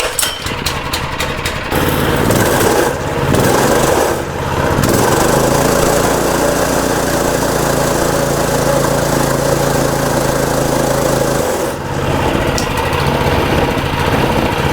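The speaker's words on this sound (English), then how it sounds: "Motor runs." Small engine of an abandoned mini bike running after revival, a loud steady buzzing idle with sputtering at the start and a brief dip near the end, close by.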